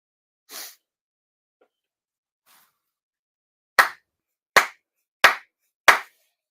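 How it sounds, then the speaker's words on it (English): Four sharp, deliberate ritual hand claps at a Shinto New Year prayer ceremony ring out alone in a quiet room, spaced evenly about two-thirds of a second apart, after a softer rustle and near-silence. "指導拝礼 for sincere claps"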